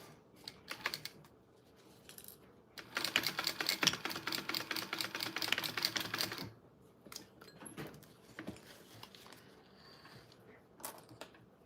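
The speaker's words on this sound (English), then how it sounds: "I am sewing these 2 layers together right there" A sewing machine stitches two layers of fabric for a bowler bag. It runs in one loud, dense, rapid burst of a few seconds, with quieter handling clicks before and after.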